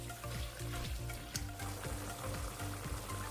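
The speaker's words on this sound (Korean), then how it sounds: "잘게 썬 건고추 2개와 조청 6큰술을 넣고 중불에서 10분 이상 뭉근히 끓여주세요." Sliced lotus root simmers over medium heat with chopped dried chili and grain syrup (jocheong). A steady close-up bubbling sizzle carries on with small pops and no talking.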